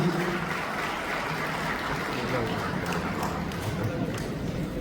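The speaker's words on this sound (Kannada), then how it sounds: "ಒಂದು ಚಪ್ಪಾಳೆ ಯಾರಿಗೂ ಮಾಡ್ತೀವಿ." An audience claps together at a Kannada film promotional event, a dense, sustained round of applause at steady volume throughout.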